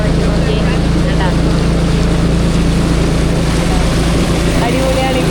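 A motorboat cruises along the Amazon River, its engine a steady, loud droning hum with rushing water and wind noise throughout, the craft running close by.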